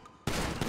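Gunfire in the video game GTA 5 during a police car chase: a brief near-silence, then a sudden loud, sustained burst of rapid shots that continues to the end.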